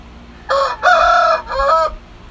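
A rooster crowing close by, one loud call in three drawn-out, harmonic segments over roughly a second and a half, with faint background noise and no talk.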